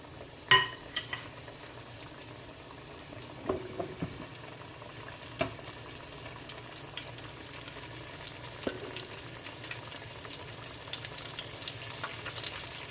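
Steady crackling and sizzling of chicken frying in a pot of hot oil fills the clip, with a few faint clinks and bumps scattered through it.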